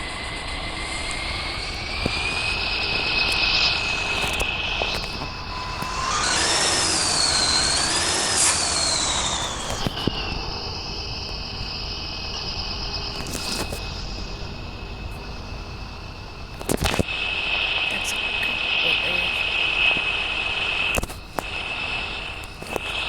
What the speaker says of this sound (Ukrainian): тому що чутно повністю мотор